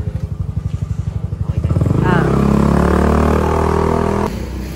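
A motorcycle engine starts with rhythmic chugging, then revs up into a steady roar before cutting off abruptly.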